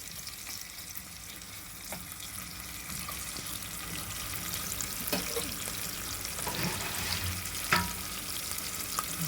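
Onions fry in a pan for a lamb head curry, a steady close sizzle and crackle with occasional clinks and stirring scrapes, moderately quiet and with no talking.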